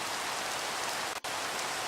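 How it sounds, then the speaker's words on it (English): Steady rain pours down during a Minecraft thunderstorm, a dense, even hiss with no thunder, briefly cutting out for a split second near the end. "So it makes it a thunderstorm."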